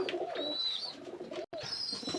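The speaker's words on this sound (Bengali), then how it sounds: "এখানেও আর এক জোড়া সালারা টেডি কবুতর আছে" Salara Teddy pigeons coo in soft, repeated low phrases close by, with a few higher chirps over them and a brief silent gap midway.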